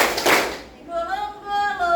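A short burst of hand clapping opens, part of a clap-along action song at a school-style session, quickly giving way to a singing or chanting voice.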